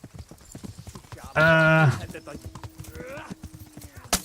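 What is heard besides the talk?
horse hooves clip-clopping in a video game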